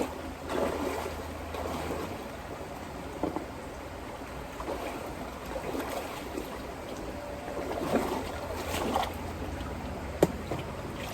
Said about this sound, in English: I'm just going to dump this into my Proline pan and see where I'm at on that.